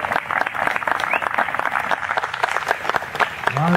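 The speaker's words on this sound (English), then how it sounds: "Round of applause for Fran" An audience at a community band concert claps in steady applause, a dense patter with a few louder claps and some crowd noise and voices mixed in.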